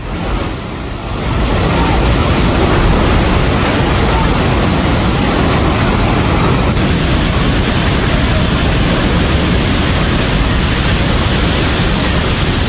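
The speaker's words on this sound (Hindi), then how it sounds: "इतनी तेज पानी आया है कि खिलौनों की तरह बस पानी में बहती हुई चली गई है।" Fast flash-flood water in Nepal roars as a loud, steady broadband rush, strong enough to sweep away a bus, filling the whole stretch without pause after a slightly quieter opening second.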